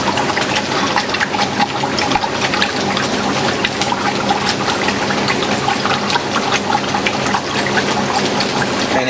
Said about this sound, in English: The awesome thing about this Maytag is that we have infinite water level selection